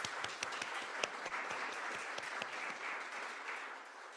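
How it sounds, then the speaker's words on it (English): An audience applauding steadily, a dense patter of many hands clapping that fades slightly toward the end, heard from some distance. "a big round of applause."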